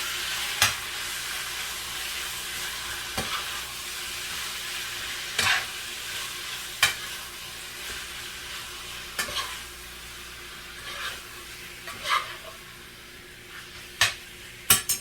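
Pepper being stirred into a pan while fettuccine Alfredo with chicken cooks, with a soft steady sizzle broken by sharp utensil scrapes and clinks at irregular intervals, close and without talk.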